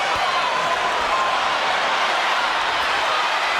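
A boxing crowd at the Terence Crawford vs John Molina Jr fight fills the arena with a steady, dense roar of cheering and shouting that holds at an even level throughout, with no single sound rising above it.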